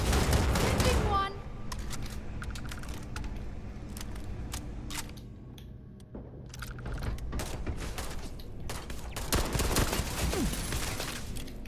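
Turret gunfire in the video game Starfield, fast clusters of sharp shots and mechanical clatter in bursts across the clip, loud up close, with a voice talking in between.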